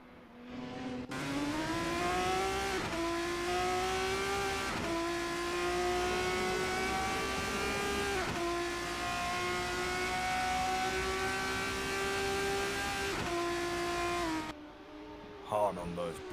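Formula 3 race car engine howling around Silverstone in a racing game, a loud continuous high-revving whine with sharp upshifts every few seconds and a brief drop near the end.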